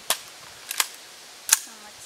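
Gunshots from a handgun, three sharp cracks spaced unevenly over two seconds, fairly close and loud against a quiet background.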